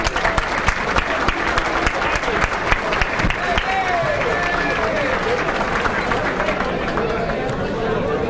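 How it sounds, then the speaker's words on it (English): Banquet guests at a sports hall of fame chapter dinner applaud their chapter president, a steady patter of clapping from a moderate crowd with murmured chatter underneath. "Having a nice round of applause for my friend"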